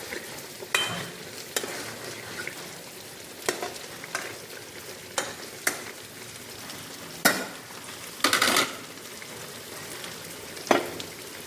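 Hilsa fish is sautéed in a pan, a low sizzle under sharp, irregular bursts of spatula scraping and clatter, close by and with no talking.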